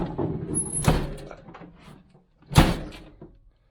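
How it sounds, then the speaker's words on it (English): Two solid thuds as the tailgate of a 1993 Range Rover Vogue 3.9 is pushed shut, one and then a louder second close up, with a rattle of metal and a quiet pause between. "So if I were to close the tailgate,"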